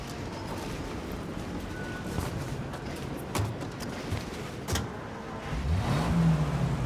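A 1930s-style car in the game Mafia: Definitive Edition rumbles along at low revs, with scattered clicks and thumps, then its engine rises in pitch as it accelerates toward the end.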